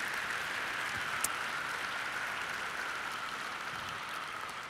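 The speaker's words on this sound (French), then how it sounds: "Je pense qu'on peut les applaudir" Sustained audience applause fills a conference hall after a talk on the film Demain, a dense, steady wash of many hands clapping at even loudness throughout, with no voices over it.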